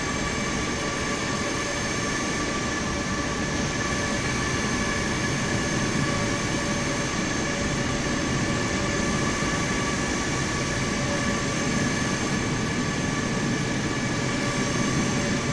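A Microsoft Flight Simulator airliner lands at San Diego with its thrust reversers deployed, giving a loud, constant jet roar with a steady high whine that holds evenly throughout without a break.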